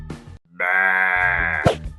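A single sheep gives one loud, close, drawn-out bleat, clear and alone, with brief soft background noise before and after.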